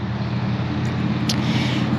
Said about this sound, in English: It is a little bit noisy here because there's a bridge over there where a lot of cars pass by.